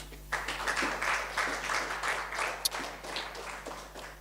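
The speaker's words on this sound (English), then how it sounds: "give yourself a round of applause" An audience applauds at a corporate talk at Prife HQ, a steady wash of many hands clapping that holds fairly loud for the whole stretch, with one sharper clap standing out near the end.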